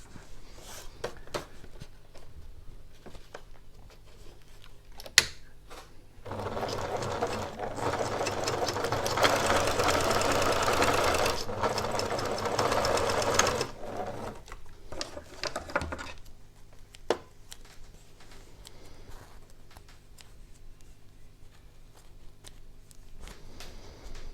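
A sewing machine runs a steady stitching burst through a fabric face mask, loud and continuous for several seconds in the middle, with quieter handling and clicks before and after.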